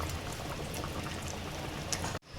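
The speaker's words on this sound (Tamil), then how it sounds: "இந்த மாதிரி கொதி வந்தோன்னே தான் போடணும்." Water bubbling at a rolling boil in a pot for chicken biryani, a steady, close, dense simmering hiss that holds for about two seconds and then cuts off abruptly.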